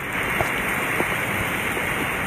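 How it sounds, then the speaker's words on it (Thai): Natural rain falling, a steady broadband hiss of water that runs without a break for the whole stretch, with a few faint individual drop impacts standing out. "คือ ฝนตกครับ"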